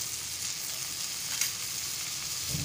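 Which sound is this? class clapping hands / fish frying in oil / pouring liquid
fish frying in oil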